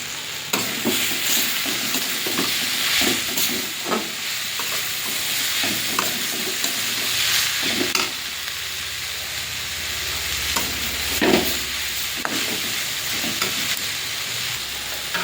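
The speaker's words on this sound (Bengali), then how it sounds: "অল্প করে একটু লবণ দিয়ে শাকটা ভেজে নিই।" Pumpkin and drumstick greens frying with chopped onion and salt in a pan, a continuous close sizzle broken by repeated scraping stirs and clatters of the spatula, with no talk.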